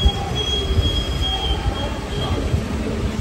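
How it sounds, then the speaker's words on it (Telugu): Sabari Express (17230) screeches with a sustained, high metal-on-rail wheel squeal over a heavy low rumble as the train brakes to a stop, loud and close throughout. "ఇక అయితే ట్రైన్ అయితే ఆగింది"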